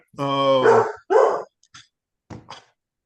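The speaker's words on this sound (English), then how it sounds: "Dogs are dogs." A dog gives a drawn-out, whiny bark followed by a shorter yelp, then a few faint, scattered clicks and thumps in an otherwise quiet space.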